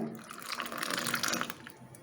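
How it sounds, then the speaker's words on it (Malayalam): Water pours in a short continuous stream into a glass, rising and then tapering off after about two seconds. "ഒരു കാൽ ഗ്ലാസ് വെള്ളം നമ്മൾ ഒഴിക്കുകയാണ്"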